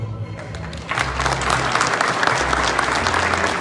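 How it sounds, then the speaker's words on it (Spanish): Applause breaks out at a public event launching a national civil protection week in Mexico, swelling suddenly after a low hum and continuing as a full, steady crowd clap. "el aplauso para todos ellos"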